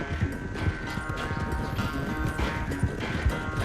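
Horse hooves clop steadily and close by at a trot in the video game Red Dead Redemption 2, a continuous rhythmic beat with no clear neigh standing out.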